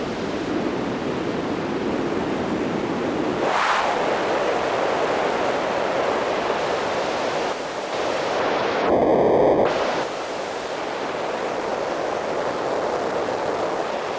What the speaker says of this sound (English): to add a little more crackle to the rain